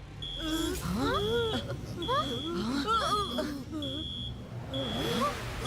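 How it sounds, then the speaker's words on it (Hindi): An alarm in a cartoon beeps again and again, a regular series of short, bright electronic tones. Squealing, chattering cartoon voices sound over it. "लगता है ये किसी टाइप का अलार्म है।"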